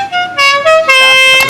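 A loud, close vehicle horn sounds in several blasts of varying pitch in quick succession, with nothing else heard.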